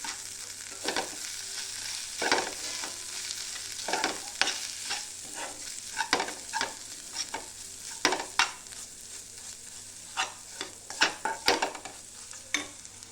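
Potato bhaji being stir-fried in oil with turmeric, a constant sizzle punctuated by repeated sharp scrapes and taps of a spatula against the pan at an uneven rhythm.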